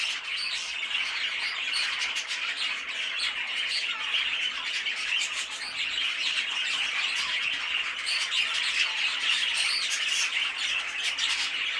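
Young show budgerigars kept in a shed squawk and chirp continuously, a dense, loud chorus of harsh overlapping calls close by with no pauses.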